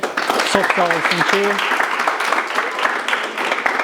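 A crowd applauds with dense, steady clapping throughout, and a voice briefly rises above the clapping near the start.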